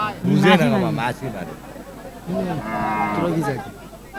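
A Sahiwal or Deshal breed dairy cow at a cattle market gives two long, loud, nearby moos, with faint crowd chatter in the background.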